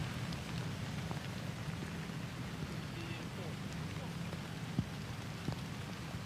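Steady rain falls on a golf course during an amateur golf championship, with heavy rainfall producing a constant, even hiss and a few louder drop hits, with no talk.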